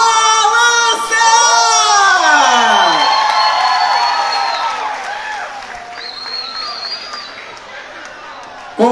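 Big audience bursts into loud applause, cheers and whoops for a quadrilha junina troupe at a festa junina contest, rising sharply then fading over several seconds into scattered shouts.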